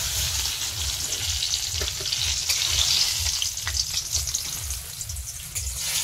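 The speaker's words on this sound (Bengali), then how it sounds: "কম তেলে বেগুন ভাজা" Eggplant fries in a small amount of oil with a steady, loud sizzle and crackle, stirred now and then, close and alone.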